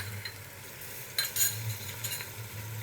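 Onions with a tablespoon of ginger garlic paste frying in a pan for chicken do pyaza, a soft steady sizzle with a couple of brief stirring scrapes and a low background hum.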